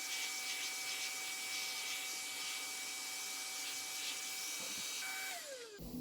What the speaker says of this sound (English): We'll vacuum it all off again and the table.